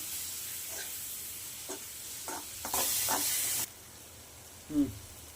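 Ground onion paste sautés in a pan for Tamil egg gravy, a soft sizzle with a few scraping stirs and a brief louder hiss burst, fairly quiet overall.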